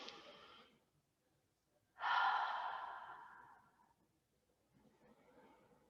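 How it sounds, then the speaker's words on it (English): Slow, deep cleansing breaths during a gentle relaxation session, a faint inhale followed by a longer, louder airy exhale that fades out, then a softer breath after it, close and quiet with no talking. "take 2 or 3 cleansing breaths just to release any tension that may have accumulated"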